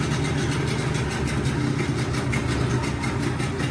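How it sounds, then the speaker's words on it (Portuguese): A Hidea 15 PRO two-stroke outboard motor runs at a steady buzzing idle, a loud, close, even engine drone with a slight rattling texture and no pauses. "Para ligar, acelerou aqui só um pouquinho, puxou a cordinha, o motor já vai funcionar."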